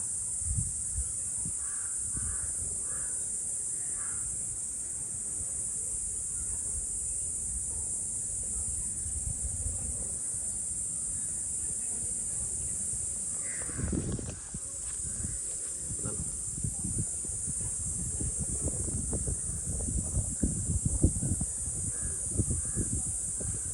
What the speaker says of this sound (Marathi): अरे काय आवाज येतो पक्ष्यांचा.